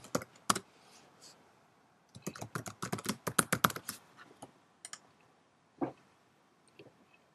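Login username and password typed on a computer keyboard: a short tap, then a quick burst of rapid clustered keystrokes, then a few isolated clicks, close and fairly quiet with no talk.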